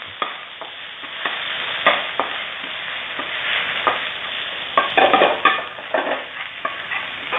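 Chilli, garlic and pounded shrimp paste frying in hot oil in a wok, a continuous close sizzle broken by scraping stirs of a spatula at an irregular rhythm, with no talking.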